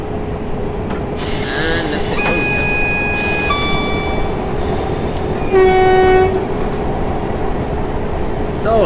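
Train running in Train Simulator 2019 on a London route out of Wimbledon Park Sidings: a steady low rumble, long tonal horn or whine notes around the middle, then a brief louder toot, with faint voice underneath.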